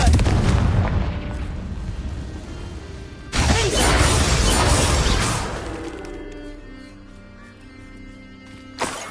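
Booming magical blast from the Confringo fire spell in Hogwarts Legacy, two loud explosive bursts with rumbling crashes and debris, the second swelling around three seconds in, then fading into quieter game ambience with a sharp hit near the end.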